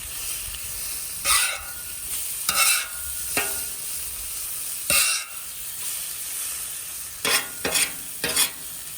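Eggs and breakfast food cook on a Blackstone griddle, a steady sizzle broken by several loud scraping bursts of a spatula flipping and stirring on the flat metal surface.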